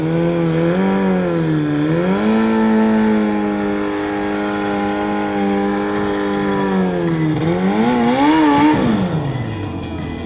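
A 1100 cc car engine at a redneck race revs in a sustained, close, loud drone, holding pitch, dipping, then climbing sharply in a final rev before easing off.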